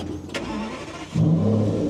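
An Aston Martin V12 Vantage S engine starts up close: a short starter whine, a brief lull, then the V12 catches with a loud, sharp rise before settling into a deep, steady idle, no talk.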